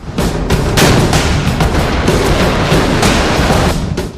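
Rapid, heavy booms of Taiwanese artillery firing shells roll one after another, loud and dense, with deep blasts overlapping into a continuous barrage.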